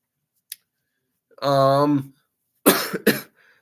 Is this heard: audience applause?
no